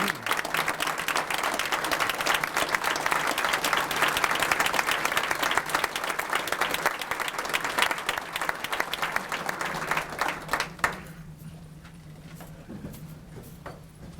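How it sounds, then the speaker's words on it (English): Audience at a Martin Luther King Jr. unity breakfast gives a sustained round of hand clapping, dense and loud for about eleven seconds before it stops abruptly and leaves a quiet room. "just give him a big hand clap for what he did"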